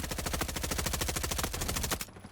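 Automatic gunfire in the video game Frontlines, one rapid, evenly spaced burst of close, loud shots lasting about two seconds before cutting off, with no voices over it.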